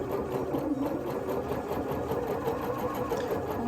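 A sewing machine stitches a fabric seam for a child's winter crown, a steady fast mechanical whir running continuously at moderate volume.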